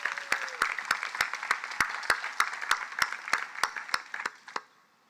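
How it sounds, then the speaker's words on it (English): A graduation ceremony crowd claps in steady applause, with sharp individual claps standing out near the front, before the sound tapers off and fades at the end. "Please give her a round of applause."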